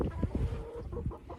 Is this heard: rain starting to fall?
no